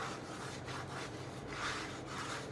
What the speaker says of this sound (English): just give that a little burnish